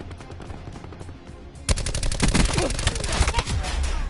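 Heavy-recoil automatic gun blazing away in Call of Duty Black Ops 4, a loud continuous burst of rapid shots that erupts after a quieter stretch of distant background fire.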